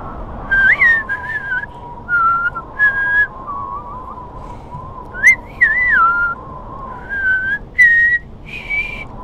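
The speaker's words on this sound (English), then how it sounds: "I can't whistle that well." A single person whistles a simple tune in short, breathy phrases with pauses between them, fairly close and clear over a low background hum, with no talking.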